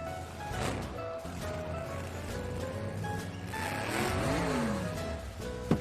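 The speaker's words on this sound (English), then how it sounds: "A tiny little car drove into the ring." A tiny car drives into a circus ring as a sound effect, its small engine humming and revving continuously with rising and falling pitch, fairly loud and steady and layered over a busy background.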